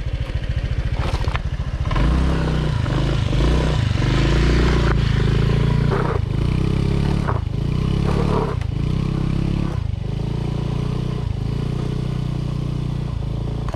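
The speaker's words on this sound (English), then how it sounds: "this scooter, definitely not made for this terrain. Just bottoms out every single time we go up a rock hill." A scooter engine labors up a rocky hill off-road, revving hard while the underside repeatedly scrapes and clatters against rocks in a series of loud, close knocks and bottoming-out thuds.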